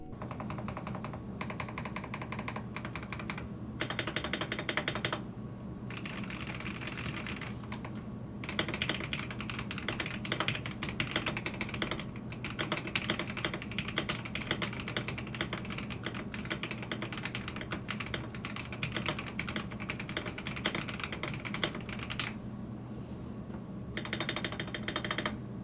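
Steady, fast typing on a stock Vortex PC66 retro mechanical keyboard, a dense stream of deep, thocky keystrokes with brief pauses, close and fairly quiet.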